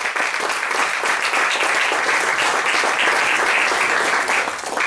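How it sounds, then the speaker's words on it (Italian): Warm, continuous audience applause at a handover ceremony, a dense even wash of many hands clapping at steady loudness from start to finish. "e la professoressa Maria Antonietta Epifani, che accolgo con un caloroso applauso."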